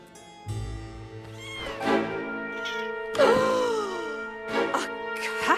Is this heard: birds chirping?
no